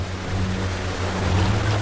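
A waterfall gushes upstream in a wild Canadian river, a steady broadband rush of water with a low rumble underneath, close and continuous throughout.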